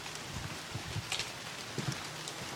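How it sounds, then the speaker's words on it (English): Rain patters onto wet leaves in dense, steady hiss with scattered nearer drips and taps, fairly faint and continuous with no voices. "it's rainy"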